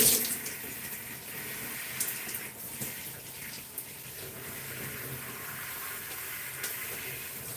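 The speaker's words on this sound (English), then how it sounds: "I'm just rinsing the conditioner out of my hair with my twist in" Running water pours steadily over hair as conditioner is rinsed out of natural gray hair worn in twists, a continuous faucet-like rush with faint splashes and no talk.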